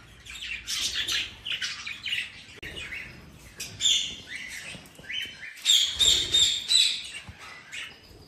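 Budgies chirp and squawk continuously in a lively, overlapping chatter, with sharp high tweets coming close to the mic and no voices.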